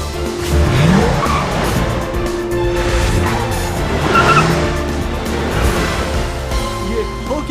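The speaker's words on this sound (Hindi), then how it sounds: "ये गाड़ी खुद ब खुद कैसे पार्क हो गई" A car rolling into a parking spot with a brief tire skid near the start, engine noise steady under a busy background, with voices talking faintly.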